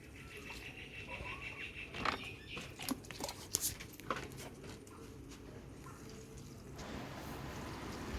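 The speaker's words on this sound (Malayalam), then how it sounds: "ഇനി എന്നാലും ഇത്തിരി കൂടി വെള്ളം ഒഴിച്ച് കൊടുത്തേക്കാം" Water poured onto newly planted okra seedlings in a garden bed, a soft splashing trickle with a few brief louder splashes over steady faint background noise; no one speaks.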